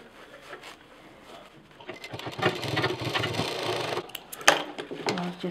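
A sewing machine stitches a quilted backpack piece near a zip between piping, starting quietly and then running in a busier, rattling burst with a few sharp clicks of handling.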